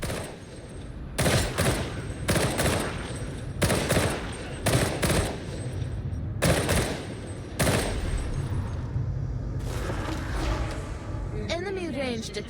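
Gunfire in the video game Warhammer 40,000: Darktide, several loud sustained bursts of automatic fire over a steady rumbling background, with short gaps between volleys and a voice speaking over part of it.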